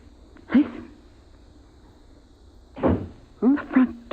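A front door opens and closes in a 1950s old-time radio sci-fi drama, with a few near, distinct knocks and creaks spread over several seconds against a quiet background.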